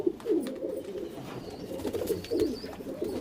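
Pigeons at a loft coo close by in short, throaty bursts repeating every second or so, steady and moderately loud over faint background noise.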